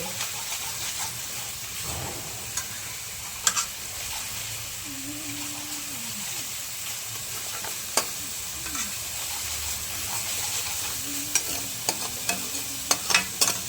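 Masala roasting in oil in a pan, stirred now and then, gives a steady close sizzle with scattered scraping and clinks of the spoon against the pan throughout.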